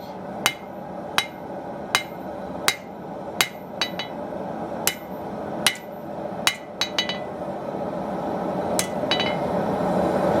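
A blacksmith hammers hot metal to thin it, with about a dozen sharp, ringing strikes at an uneven pace, close and loud, followed by quieter shop noise.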